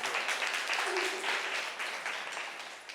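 An audience gives a burst of loud, sustained applause at a gathering on Buddhism in Rajnandgaon, Chhattisgarh, with a faint voice briefly audible through the clapping.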